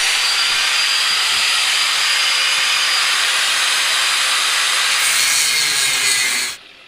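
Sheet metal being cut for a transmission oil catch can on a turbo 5.3 LS Nova drag car, a loud, steady, continuous grinding hiss that ends abruptly.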